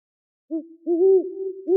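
An owl hoots three times alone, each a low tonal call with the last two longer and swelling, close and clear against silence.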